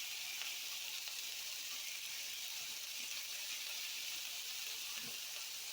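Red pepper, yellow pepper and onion frying in a pan, a soft, steady sizzle with faint crackles and no talk.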